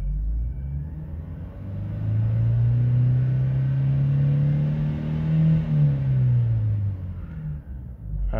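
A Vauxhall Zafira with a camshaft sensor fault (P0340) has its engine revved hard from idle. The revs climb, hold as a loud sustained drone for several seconds, then drop back, recorded close with no talking.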